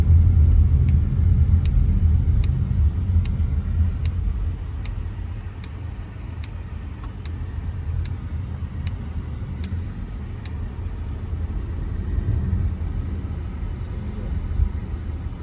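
A Polestar 4 electric car cruising at about 50 km/h on a Braumach space-saver spare tyre, a steady low road rumble inside the cabin with light ticking, a voice talking over it.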